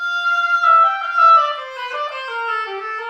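Solo oboe playing a phrase from a concert band technical etude, a clear, reedy descending line of connected notes, close and moderately loud with slight swells.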